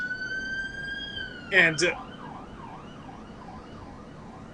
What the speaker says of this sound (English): That was my siren.